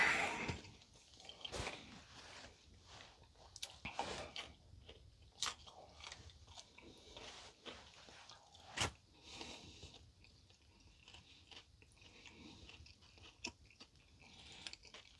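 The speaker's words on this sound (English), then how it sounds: "eating some warm food. Oh, it tastes so good." Warm food being chewed at a sub-zero winter camp with buffalo robes, giving quiet, close crunching bites and mouth sounds in an irregular rhythm against a faint background.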